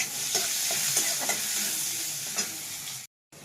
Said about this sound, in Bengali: উচ্ছেগুলো আমি একটু লবণ আর একটু হলুদ দিয়ে ভালোভাবে ভেজে নেব।